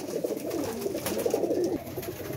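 Male pigeon cooing in a soft, rolling murmur, faint and fairly close, continuous over a low background hum.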